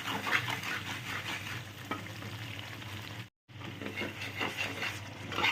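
Spice paste with salt sautéed and stirred for kali paneer, a continuous close sizzle with scraping spoon strokes against the pan, broken by a brief silent gap, no talking.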